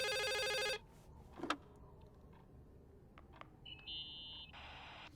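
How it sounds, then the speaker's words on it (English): An old telephone in the horror game The Suicide of Rachel Foster rings loudly in a quick electric trill, then stops, leaving quiet footsteps and a few small clicks and beeps in the room. "Is it downstairs, that phone?"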